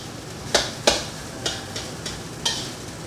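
A spatula stirs Chinese-style fried rice with seasoning in a pan, giving about six sharp scraping clacks at an uneven pace over a soft sizzle, close and clear with no talking.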